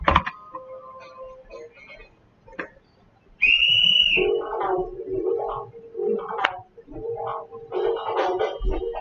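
A single short, shrill whistle blast rings out, followed by a person talking.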